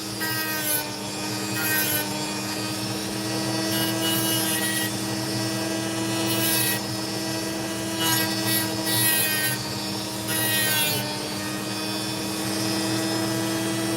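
An opal stone, a piece of grey potch, is ground on a sanding wheel, giving a steady abrasive whir with a low motor hum beneath and a few louder scraping surges.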